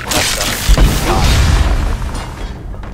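A booming explosion in the video game Skyrim, with a heavy low rumble and a few sharp cracks, loud and sustained before fading out over a few seconds.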